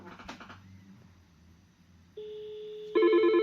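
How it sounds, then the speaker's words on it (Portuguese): A CIP 850 door intercom panel sounds steady electronic tones as extension 212 is keyed in: a quiet lead-in, then one sustained beep, then a louder layered tone near the end, close and clear with no talking. "Se eu vier aqui no porteiro e digitar 212, por exemplo"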